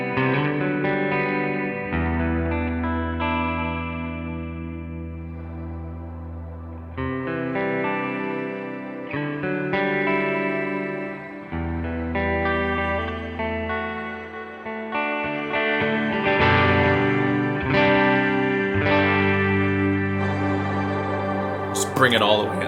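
Electric guitar runs through a Line 6 HX Stomp on the A path only, playing a continuous flowing stream of effected notes and chords with a brighter burst near the end, close and steady.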